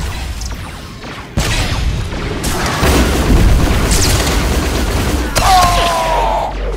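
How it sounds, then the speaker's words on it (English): Heavy booms and rumbling blasts of a gun battery fire in Star Wars: The Old Republic PvP combat, dense and loud, with laser-like zaps and explosions layered over a continuous low roar. "Gun battery firing."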